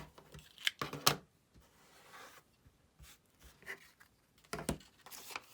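Rotary cutting or trimming of stitched quilt fabric against a ruler, quiet close-up bursts of slicing and rustling handling noise separated by short pauses.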